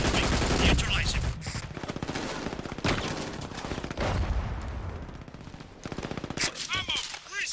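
Dense, rapid gunfire from the multiplayer shooter Brink, with bursts of automatic weapon fire and scattered shots rattling close and loud almost without pause, joined by faint shouting.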